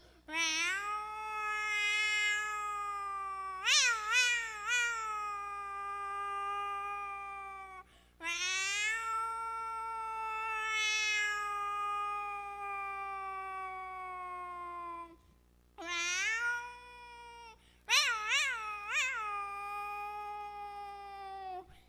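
A human voice imitates two cats meowing and fighting at a village festival performance, with long drawn-out wails and sharp yowling bursts in four clear phrases separated by short pauses.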